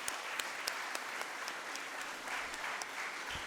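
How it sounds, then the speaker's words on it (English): Steady, even applause from a lecture-hall audience after a memorial lecture, sustained for several seconds and fairly soft, as if heard from a distance. "Let's give her another round of applause"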